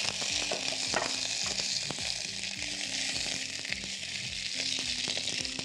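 Sausage sizzles and fries in oil in a hot pan, a dense steady crackle with frequent sharp pops and occasional stirring, close and continuous with no talk.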